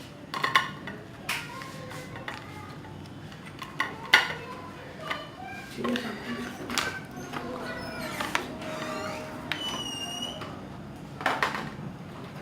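Frozen shahi kulfi being dished out, with spoon and dish clinks, scrapes and clatter coming in scattered bursts, close by, and a voice heard now and then.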